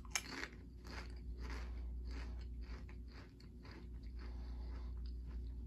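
A limited edition Halo Pringles chip is bitten and chewed up close, giving a sharp first snap followed by a steady run of crisp, repeated crunches with no talking.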